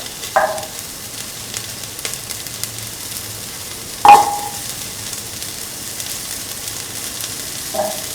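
Shallots fry in a pan with a low steady sizzle, interrupted by a few sharp clinks and scrapes of a utensil against the pan, one louder knock midway.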